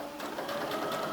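Close, steady, fast-whirring sewing machine running continuously as it stitches fabric with elastic thread, with no talking.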